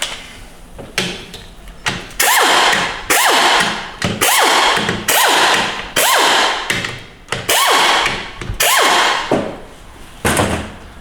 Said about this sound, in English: we're going to take out our pump bolts